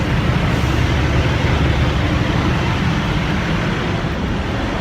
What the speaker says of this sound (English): I'm about to walk through these noisy ass trucks.